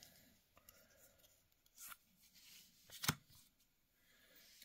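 Disney Lorcana trading card packs are opened and handled close by, giving faint, sparse foil crinkles and card rubs with one sharp tearing snap near the middle, in a quiet room.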